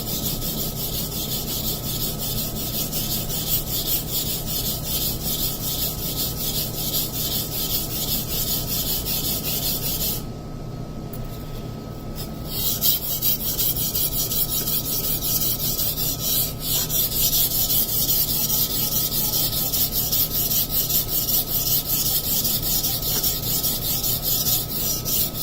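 A Masamoto Tsukiji carbon steel knife is ground on a sharpening stone in a continuous, steady, close rasping rub, broken by a brief pause partway through before the strokes resume.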